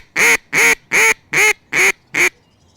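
Duck call imitating an Australian black duck greeting call: six loud, evenly spaced quacks in a steady descending run, close and clear with no talk.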